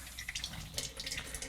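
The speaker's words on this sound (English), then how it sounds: "I'm just gonna dump a little of that water out." Water poured out of a film developing tank, a brief close splashing trickle with bubbly, gurgling spatters over about a second and a half.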